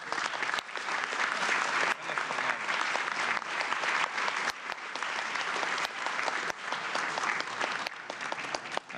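Sustained applause fills a formal session marking 30 years of Brazil's 1988 Constitution, a broad crowd clapping steadily and fairly loud, with sharper individual claps popping through.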